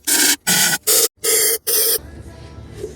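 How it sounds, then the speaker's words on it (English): Compressed air blows out the fuel injector holes of a 2010 Ford Fusion 3.5L engine in five sharp, loud hissing bursts with short gaps between them, then a quiet stretch. "I'm going to blow these out a little bit."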